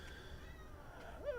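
A pet cat gives a single short meow near the end, faint and somewhat distant under a steady background hum, following a stretch with no clear sounds.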